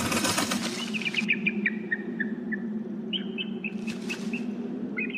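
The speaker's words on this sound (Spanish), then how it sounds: "Como ya no hay ventanas, nada impide que las aves y otros animales se acomoden en las oficinas" Birds flutter and chirp inside an abandoned office building, with a burst of wing flapping at the start, then a steady low hum beneath scattered whistled calls and another flurry of wingbeats.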